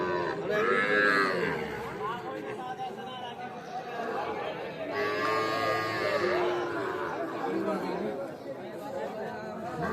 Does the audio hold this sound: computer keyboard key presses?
no